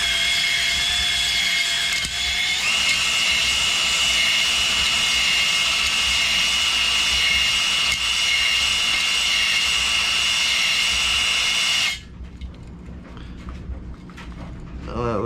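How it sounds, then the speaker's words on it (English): A drill-driven hone works inside the cylinder of a B-series engine, a loud, steady high-pitched whine that runs continuously for about twelve seconds before cutting off abruptly, leaving faint clatter and scraping. "But right now we're just honing it"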